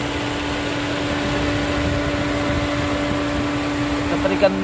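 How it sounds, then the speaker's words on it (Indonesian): A vehicle engine idles smoothly with no faults or leaks, giving a steady even hum with fan-like whir throughout and a brief knock near the end; no one speaks over it. "Mesin suaranya halus, nggak ada kendala, nggak ada kebocoran."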